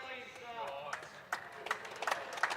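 Scattered clapping from a bowls match crowd during mixed pairs knockout play, a few sharp claps building over a steady murmur of background voices.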